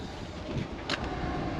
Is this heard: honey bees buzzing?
no